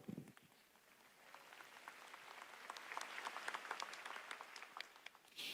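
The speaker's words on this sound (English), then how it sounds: "A round of applause for math." Faint audience applause at a GTC Taipei tech keynote, a soft patter of many hands that swells over several seconds, distant and steady.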